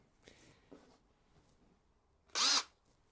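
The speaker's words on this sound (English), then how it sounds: "now that we've cut these to size, we can start drilling" A short, loud burst of a power drill spinning up close while making acoustic panels, lasting under a second after some quiet handling noises.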